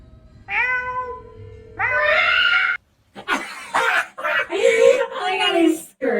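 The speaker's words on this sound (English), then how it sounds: "Meowing at people in the IHOP bathroom until someone meows back." Loud, close meows echo in an IHOP restroom: two drawn-out calls, a short pause, then a quicker run of yowling meows.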